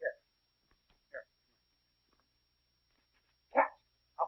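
A dog in an old remastered film gives a few short, sharp barks spaced across a quiet stretch, the last two louder and closer, with no one talking over them.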